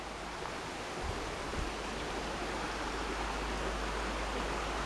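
Carrickmines river flowing through a culvert, a dense, steady roar of rushing water that fills the space evenly without pause, loud and close throughout.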